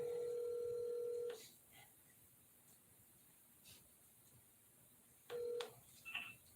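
A telephone dials out with steady tones: a long sustained tone for over a second, then a pause and another brief tone burst with a couple of short beeps, clear and alone with no talk.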